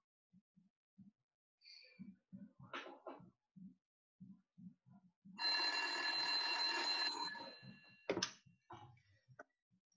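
A telephone rings in a burst of bright, steady tones partway through a theatrical stage lecture, with a brief final chirp after it, between short clicking and tapping sounds and some quiet movement.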